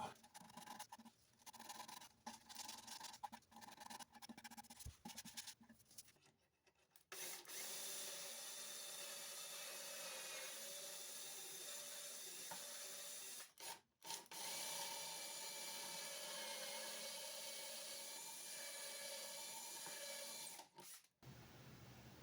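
Sandpaper is rubbed by hand over pine boards, giving soft, close scratchy strokes that start intermittent and then become a longer continuous rasp, broken by a few brief pauses.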